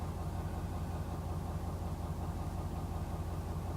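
A Ford 6.7L diesel engine idles just after starting, put away hot and showing low oil pressure at around 600 RPM: a steady, low, even drone, close and continuous, with no talk.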